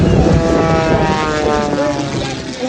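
A propeller airplane flies a hard aerobatic routine at an airshow at Arnold Palmer Airport, its engine roaring loud and close with a shifting, wavering pitch as it maneuvers.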